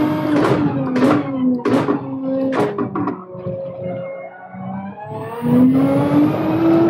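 Porsche 911 race car engine in Gran Turismo 7, revving up through several quick gear changes with sharp rising pitches, then settling into a steadier drone before climbing again, loud and close.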